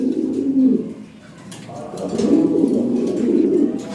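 Lahori pigeons, European Lahori Sherazi breed, coo close by in soft, throaty bursts that rise, pause briefly and then return in a longer run.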